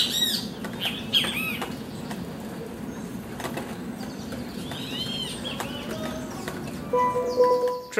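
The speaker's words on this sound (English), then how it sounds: "Here, the birds are so close up that you can almost interact with them." Birds flap their wings at close range in a swamp bird sanctuary in South Trinidad, with scattered chirps and calls over a steady outdoor background throughout.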